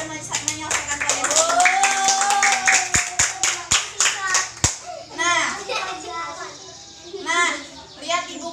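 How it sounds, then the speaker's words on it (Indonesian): Children clap together in a classroom during a primary-school science lesson, with a burst of sharp, rapid hand claps amid excited kid chatter and shouting, followed by lively children's voices and someone speaking. "tepuk tangan untuk kalian semua yang udah menyelesaikan kalian"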